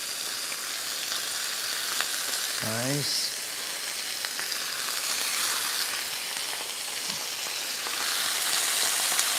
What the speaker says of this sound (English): You should hear the nice sizzle